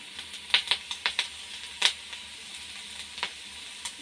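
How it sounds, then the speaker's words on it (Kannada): Akkarike greens palya with coconut frying in a pan, heard as faint, scattered sizzling crackles and stirring scrapes, quiet and close with no talk. "ಇನ್ನೊಂದು ಸ್ವಲ್ಪ ಹೊತ್ತು ಫ್ರೈ ಆದರೆ ರೆಡಿ ಆಗುತ್ತೆ"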